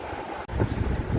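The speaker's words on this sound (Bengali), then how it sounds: "অসাধারণ হাওয়া দিচ্ছে অসাধারণ হাওয়া দেখুন" Strong sea wind buffets the microphone in a continuous low rumble, with a brief dropout partway through, on Marine Drive seafront in Mumbai.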